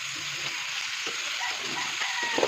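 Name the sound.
food frying and being stirred in a pan with turmeric and salt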